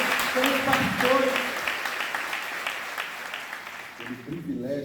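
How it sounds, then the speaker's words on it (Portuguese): A church congregation applauds steadily, a broad rolling wash of many hands, with a preacher speaking over it and continuing as the clapping fades. "Eu queria que você aplaudisse ao Senhor pela vida, pelos líderes, pelos supervisores, pelos pastores"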